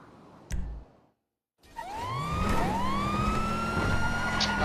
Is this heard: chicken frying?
no